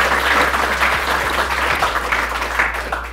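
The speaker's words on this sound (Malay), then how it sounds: "Tepuk tangan." A studio audience applauding at a talk-show taping, producing a loud, dense wash of clapping that continues steadily throughout with a low electrical hum underneath.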